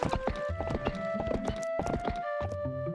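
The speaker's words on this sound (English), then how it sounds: "if you ride in the grass with the horse, you can also get rupees" A horse gallops in a Zelda video game, rapid rhythmic clip-clop hoofbeats over a steady tonal music bed, loud and continuous without talk.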